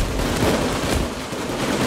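Gunfire in the heist shooter game Payday 2: a dense, continuous rattle of overlapping shots at steady loudness, with no pause and no voices.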